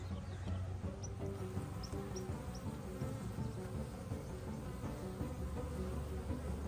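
Dense, steady buzzing of many honey bees close by in a hive holding a relocated swarm, a continuous low hum with no pauses.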